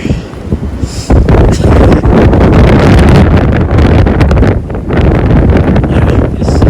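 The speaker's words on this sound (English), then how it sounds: "Rather windy." Strong wind on a mountain trail buffets the microphone in a loud, continuous roar with gusty surges and brief lulls.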